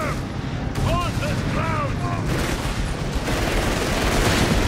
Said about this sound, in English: The recce artillery coming in on the church